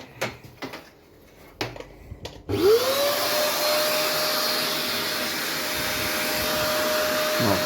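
A vacuum cleaner switches on partway through in a car paint-spraying setup and keeps up a loud, steady whine with a rising motor tone that then holds level. Brief knocks and handling noises come before it, with no talk.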